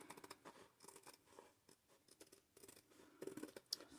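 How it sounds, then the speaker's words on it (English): Scissors snip through fabric along an envelope outline, a close, quiet series of irregular crisp cuts and scratchy blade strokes, with no talk. "I am going to cut it as close as I can to the outline of my envelope here."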